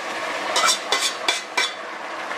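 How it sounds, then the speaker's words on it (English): Stewed red kidney beans being stirred in a pot, with four distinct scraping strokes of a spoon heard close up at an even pace and no voices. "Give that a stir."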